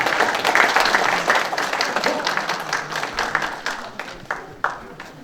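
Audience members at a book concert in Busan applaud a speaker on a general's life, a crowded burst of clapping that thins into scattered individual claps toward the end.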